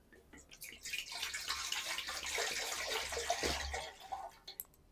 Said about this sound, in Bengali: ডেকচির মধ্যে বেশ খানিকটা জল নেব।